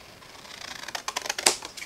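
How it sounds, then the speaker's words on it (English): Scissors snip through card while a box card with a window is made from a craft kit, a run of quick, close crisp cuts that quicken and grow louder toward the end. "Again, I'm just using my scissors"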